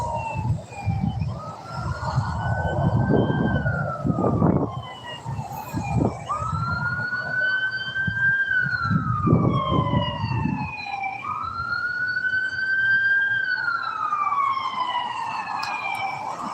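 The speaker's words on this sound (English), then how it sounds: "here's a loud ambulance" A loud ambulance siren wails past, its rising and falling tone cycling steadily and close by over rumbling street traffic, without any talk.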